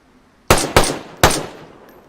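Three loud gunshots from a firearm in the survival video game DayZ, the first two close together and the third about half a second later, each with a sharp attack and a decaying echo tail.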